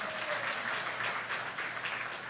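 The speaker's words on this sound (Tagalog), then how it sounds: "Pumalakpak kay Lord." A church congregation claps together during a Christmas sermon, sustained dense applause from many people in a reverberant room, even in level throughout with a faint low hum beneath.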